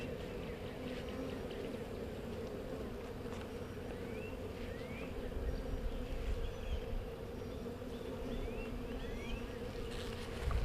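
A steady, dense drone of many honeybees buzzing up close while a nuc is installed, continuous throughout with occasional individual bees whining past.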